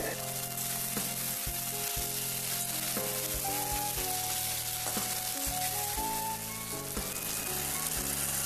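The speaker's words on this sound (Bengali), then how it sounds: "আমি ক্যাপসিকাম পেঁয়াজগুলো ভেজে নিচ্ছি।" Capsicum, onion and green chillies fry in a pan for a chilli egg dish, giving a steady, close, dense sizzle that runs unbroken throughout, with occasional faint stirring knocks and crackles.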